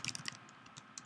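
Brief, quiet burst of typing on a computer keyboard, a handful of crisp key clicks in quick, uneven succession.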